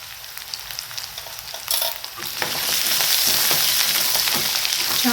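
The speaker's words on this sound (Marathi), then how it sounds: "ब्राऊन होईपर्यंत लसूण परतून घ्यायचं" Garlic sautéing in a pan until golden brown, with cumin powder and salt: a close crackling sizzle that grows louder and denser partway through, over faint scraping, with nobody speaking.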